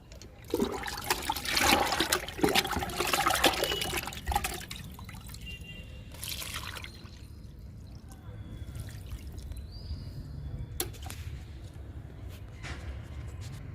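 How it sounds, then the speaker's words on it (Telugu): Kitchen waste liquid is poured onto a curry leaf plant: a loud splashing pour for a few seconds, followed by quieter dribbles and trickles. "లాస్ట్ మొక్క కరివేపాకుకి ఇచ్చేద్దాము లిక్విడ్ని"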